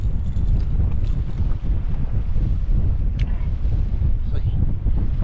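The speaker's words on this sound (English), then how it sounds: "This wind pushing me." Steady wind roars and buffets the microphone aboard a fishing boat out for blue catfish on cold water, a continuous loud rush with faint water movement beneath.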